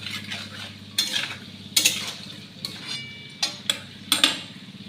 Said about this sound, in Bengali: এবারে সব কিছু দিয়ে খুব ভালো করে মিশিয়ে নেব, তারপরে আবার ঢেকে রাখবো।